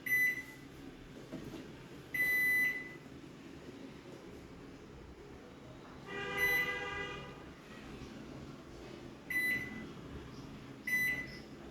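A Godrej 28-litre GME 728 CF1 PM convection microwave oven beeps repeatedly in short tonal bursts, then a longer beep sequence, over a faint steady running hum.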